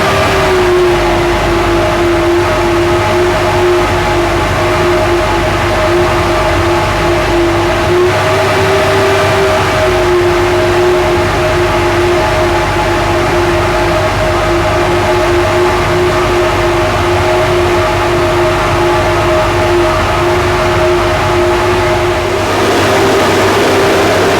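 An Eventuri intake for a Mk5 Supra runs on a flow bench, producing a loud, steady, close whooshing roar with a sustained tonal whine that holds throughout and drops slightly near the end.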